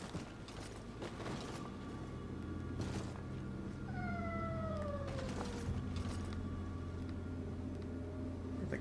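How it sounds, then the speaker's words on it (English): Cats meowing in the video game Nioh 3, several drawn-out sliding wails over a low droning ambience, moderately loud, with creaking sounds in the background. "I don't like the way these cats sound."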